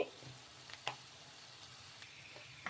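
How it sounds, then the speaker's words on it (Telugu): Peanuts frying in hot oil in a kadai make a faint, soft sizzle with a few light clicks and scrapes from stirring, heard quietly at close range. "నూనె వేడెక్కాక ఈ పల్లీలు అయితే వేసుకొని వేయించుకోవాలి"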